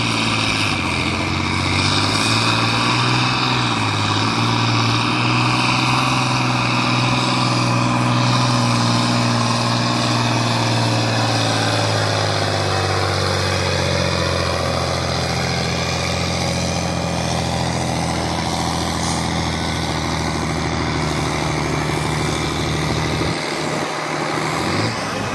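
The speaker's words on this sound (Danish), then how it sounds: "Men vi tager godt imod en John Deere 4440." A John Deere 4440 tractor's engine roars loud and close at a tractor pull in Egebjerg Bakker, a sustained heavy drone whose pitch slowly falls and shifts as it labours under load.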